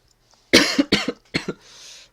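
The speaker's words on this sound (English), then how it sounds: "this annoying little cough is just getting on my nerves" Three or four sharp, close coughs in a quick burst, followed by a short breathy exhale.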